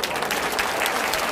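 Church congregation bursting into applause during a sermon, a short, loud, dense patter of many hands clapping together with faint crowd murmur underneath.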